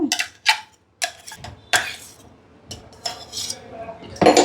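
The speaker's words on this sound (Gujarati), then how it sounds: "અને આ બેટરને આપણે બરાબર ફેટીશું" A spoon whisks pakora batter in a metal bowl at close range, giving rapid, uneven clinks and scrapes against the vessel with brief pauses.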